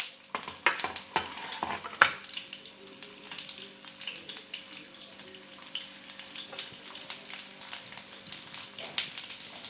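Ginger and garlic frying in oil for a restaurant-style matar paneer gravy, with a steady sizzle, a few sharp utensil clicks early on, and a faint water-like hiss throughout.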